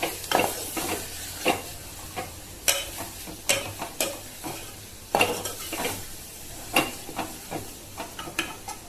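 Onions and chillies frying in oil, steadily sizzling while a utensil stirs and scrapes the pan in repeated sharp clinks and scrapes, close and alone without talk.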